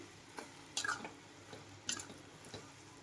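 Quiet spoon scraping and stirring through a pan of atukula chakkara pongali, sweet flattened-rice pongal with edible camphor, a few soft wet strokes spaced about a second apart.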